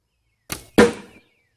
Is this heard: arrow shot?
yes